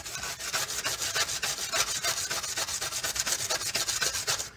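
Clutch plates from a 1965 Suzuki K11 motorcycle being scrubbed clean, a steady run of rapid back-and-forth scrubbing strokes, close and fairly loud, with no talk.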